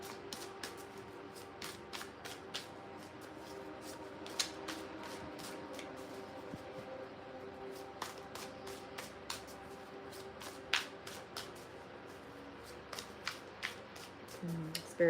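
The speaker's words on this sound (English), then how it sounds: "Let me start shuffling." Tarot cards are shuffled close by in soft, irregular riffles and snaps that repeat every second or so over a quiet room hum.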